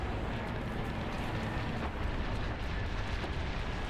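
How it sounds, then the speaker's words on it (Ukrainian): A Calliope rocket launcher fires in War Thunder, producing a loud, dense, continuous roaring rush that holds steady throughout with no voices over it. "Це там що, каліопа була?"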